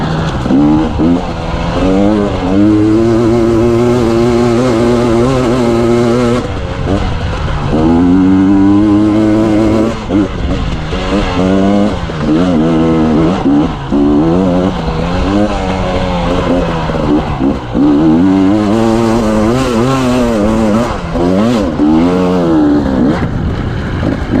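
A 2019 KTM 250 EXC TPI two-stroke dirt bike fitted with an RK Tek head runs loud and close, its buzzy engine blipping and revving repeatedly in short bursts between idling stretches.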